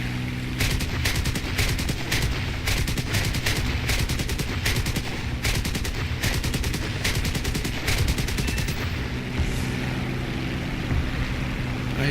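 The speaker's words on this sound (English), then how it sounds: "Well, he's got machine gunners." Rapid machine gun fire from an aircraft in a video game, loud and close, in quick repeated bursts over a steady droning engine hum.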